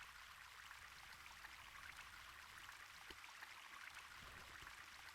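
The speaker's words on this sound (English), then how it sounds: "That's some pretty loud water" A steady rushing of water, like a stream, plays from the video game Zwei: Ilvard Insurrection. It is faint but continuous, with no voices over it.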